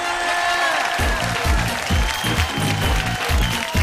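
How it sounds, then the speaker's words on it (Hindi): Loud applause and crowd noise at a fair talent contest on stage, a dense continuous wash of clapping with cheering, while a voice calls out over it and music-like tones sit underneath. "जोरदार तालियां हमारे जजेस के लिए"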